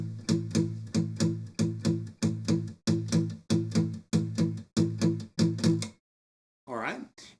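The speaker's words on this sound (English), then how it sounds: "so I've got this nice muted sound, and I'm chugging along this driving shuffle pattern" A steady, driving shuffle of palm-muted acoustic guitar chugs, evenly paced and close, stopping abruptly before a brief strummed flourish at the end.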